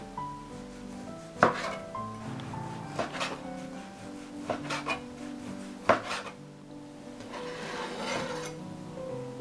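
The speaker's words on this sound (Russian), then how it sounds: "А мы сейчас будем нарезать кругляши тоненькие." A knife slices sausage into thin rounds on a board, sharp irregular taps and scrapes spaced a second or so apart, close up.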